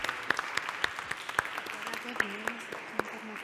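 Scattered, sparse applause from a small audience at a Spanish film-poster awards ceremony, individual claps standing out irregularly at moderate level, with voices murmuring underneath.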